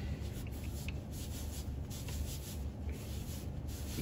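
Cloth or pad rubbing back and forth over a surface to lift a stubborn stain, quick repeated scrubbing strokes, close and fairly soft, with no talk.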